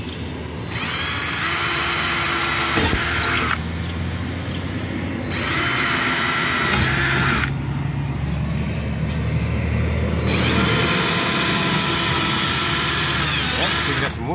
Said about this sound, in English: we're going to drill these holes and see what's in behind them